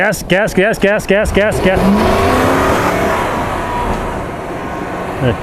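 A 4th Gen Toyota 4Runner on Toyo RT Trail tires revs hard and spins its wheels in snow, a loud close engine roar rising and falling in quick bursts before settling into a steady rushing drone, with people talking over the start.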